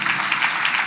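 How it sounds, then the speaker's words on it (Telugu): A church congregation claps hands in praise during a pastor's sermon: a brief, fairly loud burst of rhythmic, steady clapping with no voices. "చప్పట్లు కొడుతూ దేవునికి స్తోత్రం చెప్పడం."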